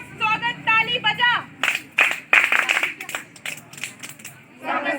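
Group welcome clapping at a scout and guide program, sharp claps in uneven bursts mixed with chanting voices.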